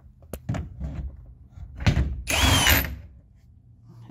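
Power drill spinning a steering wheel nut off a Ford Festiva column, with a short whir, a few clunks and a louder sustained burst of drilling near the end, close and fairly loud.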